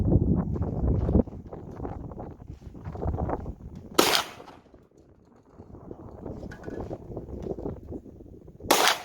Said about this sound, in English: We're using CCI primers, and this is with the Underwood brass. We're shooting 25 yards.